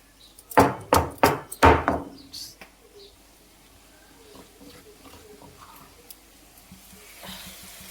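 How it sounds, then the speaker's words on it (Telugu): About an inch of ginger and seven or eight garlic cloves pounded coarsely in a kitchen: five sharp, loud strikes in quick rhythm, then fainter scattered taps and cooking noise. "ఉల్లిపాయ వేగలోపు 1 ఇంచు అల్లము, ఒక 7-8 వెల్లుల్లిపాయలు ఈ కచ్చపిచ్చగా దంచేసుకో."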